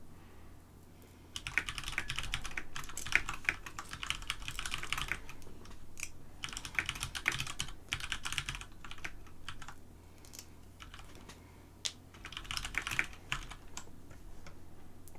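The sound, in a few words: typing on a computer keyboard to post a tweet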